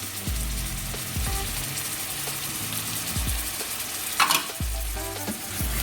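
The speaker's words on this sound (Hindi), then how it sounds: "अब इस मसाले को भी अच्छी तरह भूनना" Masala of salt, dried chilli, turmeric and dried coriander for chicken karahi is stirred and fried in a pan, a steady sizzle with repeated scraping, clattering strokes of the spoon at an irregular rhythm, close and alone.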